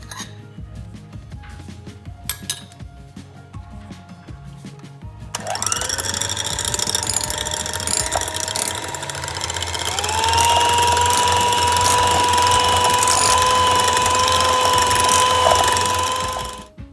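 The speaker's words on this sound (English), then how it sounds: "we'll take egg yolks and butter and beat it nicely" An electric mixer beats egg yolks and butter for a coffee cake, starting after quiet kitchen clatter and then whirring steadily and loudly, its pitch settling, until it cuts off at the end.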